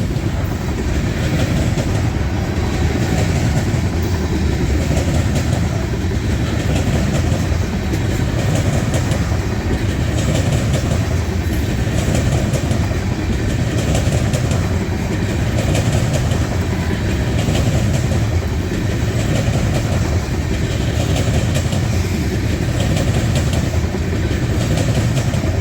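A fully loaded CSX grain freight train rolls steadily past at close range, a continuous heavy rumble with rhythmic clickety-clack of wagon wheels over rail joints running throughout, no voices.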